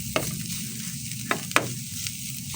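Chayote sautéed with pork sizzles steadily in a pan, with a few sharp scraping clacks of a spoon or spatula stirring through it; close and fairly quiet, no voices.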